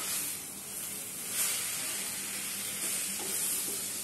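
Curry, coriander and mint leaves frying with tomato in a pan over a medium flame, a continuous close sizzle and hiss with soft stirring scrapes.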